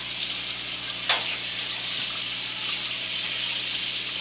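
Water runs steadily from a tap into a sink in a handwashing setup, a constant close hiss with no talking.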